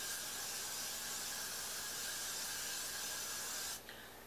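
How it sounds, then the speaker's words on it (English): Hairspray from an aerosol can misted steadily over a high ballroom bun, one continuous close hiss lasting about four seconds before cutting off. "I would spray it, and I wait 5 minutes and spray it again"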